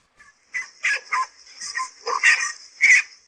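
A pack of five dogs barks at a king cobra in a rapid, uneven burst of sharp yips and barks, close and loud, some overlapping, with whimpering tones mixed in.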